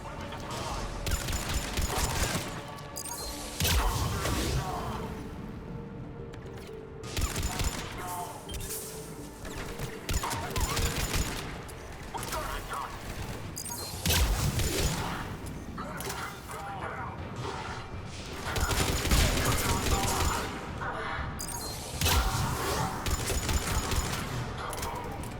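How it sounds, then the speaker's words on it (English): An automated turret in the Mass Effect 3 video game fires dense, continuous bursts of gunfire with crashing impacts, loud and sustained throughout, while voices talk over the shooting. "I hear a turret."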